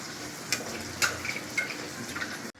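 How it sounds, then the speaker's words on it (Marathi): Anarse sweets, poppy-seed side up, frying in a mix of oil and ghee over a low gas flame, a steady soft hiss and crackle with a few sharper bubbling pops, close and alone. "अशी तेला तुपात सोडायचं आणि वरतून असं तूप हे करायचं"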